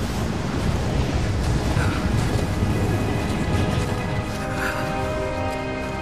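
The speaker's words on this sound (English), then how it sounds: "Storm's getting closer." Stormy wind and rain roar steadily in a snowy mountain setting in the video game Rise of the Tomb Raider, a dense broadband rumble with faint distant thunder swelling underneath throughout.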